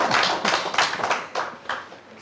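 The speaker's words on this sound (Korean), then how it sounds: "박수로 한번 영광을 드립니다" A church congregation claps together in a short burst of applause, a dense patter of many hands that swells and fades over about two seconds, with no talking over it.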